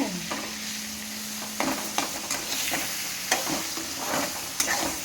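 Ivy gourd (tindora) pieces sizzle steadily in hot oil for a kurma, close up, while a spoon stirs and scrapes the pan in sharp, irregular knocks.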